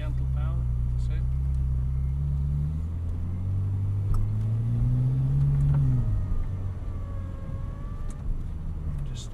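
Ferrari supercar on a drive experience pulling away gently in first gear, a low steady engine rumble that rises and falls slightly under conversation inside the car.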